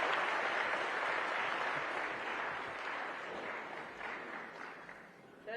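An audience at a technical textiles seminar in Kovai applauds with a broad, even crackle of clapping that gradually fades toward the end.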